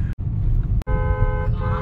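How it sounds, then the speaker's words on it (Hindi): A car horn on a road honks in a short toot partway through, sitting over a loud engine and road rumble inside the vehicle, with brief dropouts and no talk. "हॉर्न मार"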